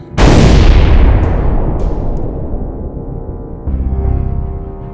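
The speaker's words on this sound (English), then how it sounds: "you heard a huge explosion." A single loud, booming explosion bursts out and then slowly rumbles and decays over several seconds, with a few faint crackles trailing off.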